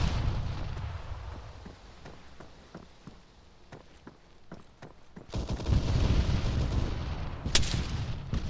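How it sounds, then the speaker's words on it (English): Gunfire in a video game while clearing the Coastline as USEC: scattered single shots crack out across the first half, then a denser, louder burst of fire with rumbling blasts fills the rest. "We're taking fire."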